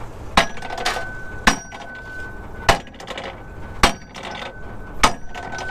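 Hammer blows striking to open a stuck auger slide gate, five sharp metallic bangs spaced about a second apart, close and loud with ringing tones between hits.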